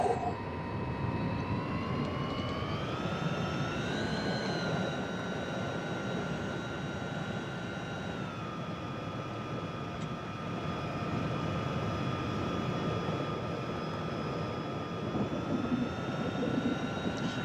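A simulated aircraft engine in the Prepar3D flight simulator drones steadily through a takeoff, a sustained whine whose pitch rises, levels, then rises again over a continuous rumbling bed, with no voices.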